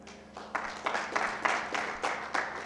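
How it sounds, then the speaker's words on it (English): Audience at a nurses' conference claps in roughly six rhythmic bursts, fairly soft and evenly spaced, with no voices over it. "I want us to put a clap to us as a team"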